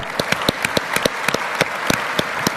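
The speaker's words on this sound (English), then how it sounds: "Shall we give them a big round of applause?" A conference audience applauds in a brisk, close patter of many individual claps, with sharp hand strikes standing out over a steady layer of clapping and no voices.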